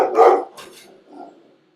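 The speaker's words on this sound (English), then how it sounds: "That's my dog in the background." A pet dog barks in the background, a few short barks close together followed by fainter, softer yelps, with no talk over them.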